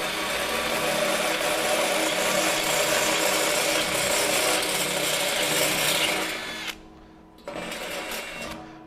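A HERCULES cobalt step drill bit grinds through stainless steel with a loud, steady whine and scrape for about six seconds. It then winds down, stops, briefly starts again, and stops once more.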